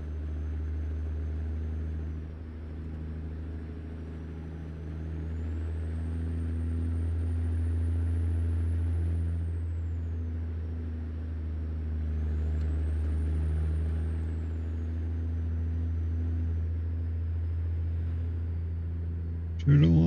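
Steady low engine drone inside the cab of a Freightliner XL truck in American Truck Simulator, modded interior sounds, holding constant for the whole stretch with a brief click right at the end.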